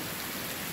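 Heavy rain pours steadily over houses in Guajará-Mirim, Rondônia, Brazil, a dense, even hiss with no pauses, close and constant throughout the short moment.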